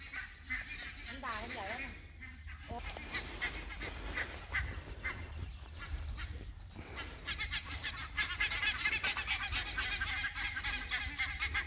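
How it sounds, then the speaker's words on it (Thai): Ducks on an island in Finland quack and honk repeatedly at close range over steady outdoor background noise, with some voices mixed in. "เป็ดครับมันไข่หรือเปล่า"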